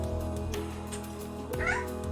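A cat gives a short meow close by over a steady background hum, with soft clicks and taps around it.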